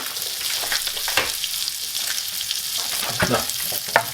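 A small batch of popcorn kernels is stirred in a hot pan, a close, constant sizzle with rattling scrapes and clicks as a spoon moves the kernels around; no voices.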